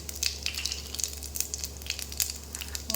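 Cumin seeds and ajwain sizzle in hot oil for a Punjabi-style dry cauliflower sabzi, giving a steady close crackle with frequent sharp pops and spits throughout and no talking.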